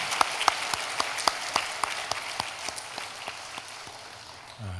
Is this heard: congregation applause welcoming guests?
yes